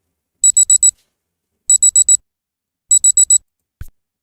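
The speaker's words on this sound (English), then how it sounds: "Let me know if that timer's a little fucking loud." A Pomodoro timer alarm beeps loudly in three bursts of four rapid high-pitched tones each, evenly spaced, close and piercing, followed by a single soft click.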